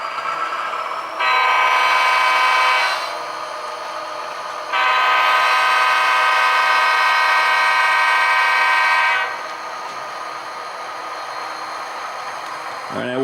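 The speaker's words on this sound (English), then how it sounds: "I got to honk for the vagrants, of course." Two long blasts of a switching locomotive's horn, the second longer, loud over the low rumble of a moving train.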